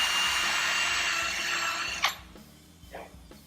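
A power drill driving screws into wood for a king size bed frame, a steady loud whine that cuts off abruptly, followed by a couple of faint knocks.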